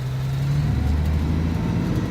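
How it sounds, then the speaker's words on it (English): A heavy truck engine in the video game Alaskan Road Truckers hums steadily with a low, throaty drone, its pitch shifting slightly as it runs, close and alone. "The truck does sound good"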